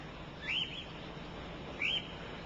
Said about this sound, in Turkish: alt beyniniz doğal ortamlarda öten kuş seslerini hep dinleyecek